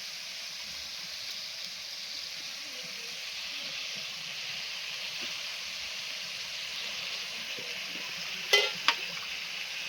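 Chopped potato simmers in the leftover gravy of a fish curry with greens in a pan, giving a steady soft hiss throughout, with two brief sharp clinks near the end.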